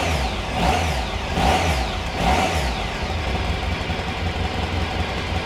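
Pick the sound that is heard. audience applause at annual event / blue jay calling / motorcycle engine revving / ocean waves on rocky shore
motorcycle engine revving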